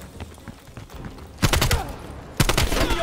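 Bursts of rapid gunfire in Call of Duty Cold War, with two loud volleys of shots following quieter background game noise and faint distant firing.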